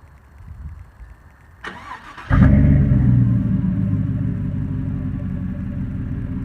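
After a brief crank, a Chevrolet Silverado fitted with 3.5-inch chrome exhaust tips catches and settles into a loud, deep, steady idle rumble, close up, with no talking.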